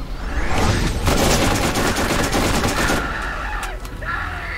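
Weapon fire from the video game Borderlands, a loud rapid stream of shots lasting several seconds with only short pauses, joined near the end by a fainter electronic tone.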